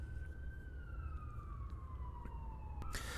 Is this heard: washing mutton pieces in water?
no